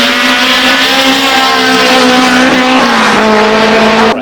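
A BMW M3 race car at the Goodwood Festival of Speed blasts past close by with a loud, sustained engine howl that holds a steady high pitch for several seconds, with no voices.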